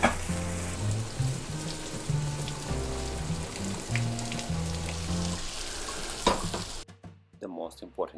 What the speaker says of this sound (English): Now, next, adding squash.